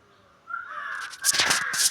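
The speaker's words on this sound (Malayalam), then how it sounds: "അവിടെ കുറേ കാക്കകൾ കൂടിയിട്ട് ആകെ ശബ്ദമാണ്" Several crows caw near a house, harsh overlapping calls in quick bursts after a brief quiet start.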